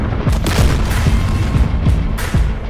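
Repeated deep booms and thuds from missile and rocket hits in the DCS World combat flight simulator, heard from a Huey helicopter in a dense, continuous rumble of roughly a dozen low impacts over steady rotor and engine noise.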